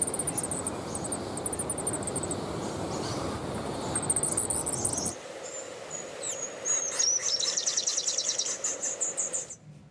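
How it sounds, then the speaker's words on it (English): Superb fairy-wren mothers sing in the nest beside their eggs, giving high, rapid trilling bursts that come and go over a steady hum of background noise, which drops away midway, leaving the clearer song alone. "Let's have a listen to a couple of mother birds now."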